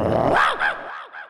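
A dog lets out a loud growling bark followed by a few shorter yips that fade in strength, close to the listener and with no talk.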